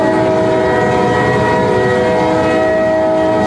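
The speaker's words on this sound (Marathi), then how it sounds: "वा सुटली ट्रेन" A departing train sounds its horn in one loud, sustained, harmonic blast that runs unbroken and close, over a rolling rail rumble.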